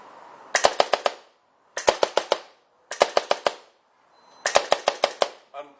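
A gun fires in four rapid bursts of about four or five sharp cracks each, separated by short silent pauses, close and loud.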